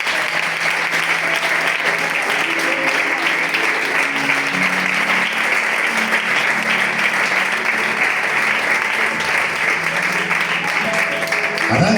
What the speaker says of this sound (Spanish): Dale un aplauso, por favor,